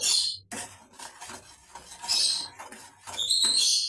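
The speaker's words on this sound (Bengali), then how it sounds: "এই মশলাটা খুবই ভালো করে 1 মিনিট কষিয়ে নেব।" A spatula scrapes and stirs spice paste in a pan for shrimp bhuna, with irregular metallic scraping strokes and sizzling bursts, close and fairly clear with no talk over it.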